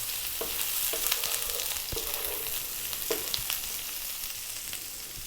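Garlic and ginger fry in mackerel oil with a steady, close sizzle, punctuated by a few clicks and scrapes of stirring in the pan, with no talking.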